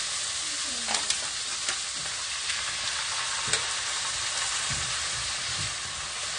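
Vegetables for a stovetop ratatouille, including peppers, sauté in a hot pan with a steady broadband sizzle and a few soft clicks of stirring, close and fairly quiet, with no talk over it.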